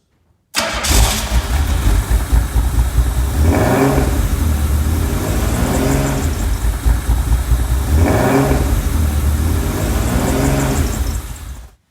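A Lamborghini Countach replica engine cranks and catches, then runs loud and close with a rough idle broken by several rising revs, no voices.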